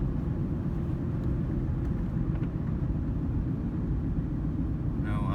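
A 2008 Ford Ranger 2WD pickup with a five-speed manual, cruising in fourth gear at about 40 mph, gives a steady, even low road and engine rumble throughout, heard from inside the cab with no other distinct noises.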